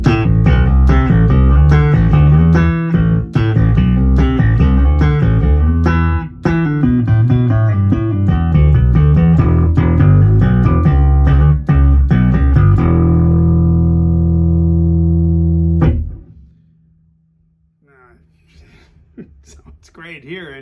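A Zon Mosaic Mojo 5-string bass guitar played slap style, loud and close, with punchy percussive thumps and pops in a busy rhythmic run, ending on a sustained ringing note that cuts off into near silence.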